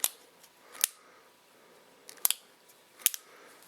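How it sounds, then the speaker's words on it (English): Spyderco Manix folding knife with its locking system, worked open and shut by hand: a few sharp, crisp clicks and snaps spaced across a quiet room, two of them in quick pairs, with no talking. "And I really like this Manix locking system."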